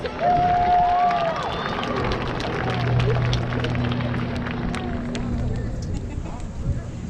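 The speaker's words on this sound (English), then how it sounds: "I want you to recognize your parents and the people that helped get you here by giving them another round of applause" A crowd at an Alcoa High School class of 2021 graduation ceremony claps and cheers for the graduates' parents, a sustained roomy wash of applause with a few whoops and scattered voices.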